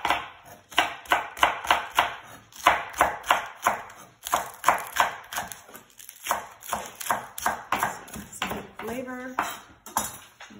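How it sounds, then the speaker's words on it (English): Green onions chopped with a knife on a cutting board for a broccoli almond salad, a fast run of rhythmic close knife taps, pausing briefly around the middle, with a short ping near the end. "So we're just gonna chop the green onion up."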